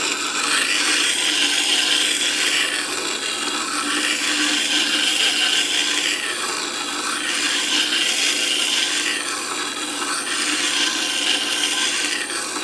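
A tool is ground on a Tormek DF-250 diamond wheel turning slowly at about 110 RPM, giving a steady, loud abrasive rasping and rubbing that runs unbroken throughout with no voices.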